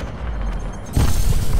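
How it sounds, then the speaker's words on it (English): A large spaceship blows up in the space combat game Elite: Dangerous, a loud deep boom that bursts in partway through over a steady rumbling game background and holds heavy low energy to the end. "And here he goes, nice big explosion."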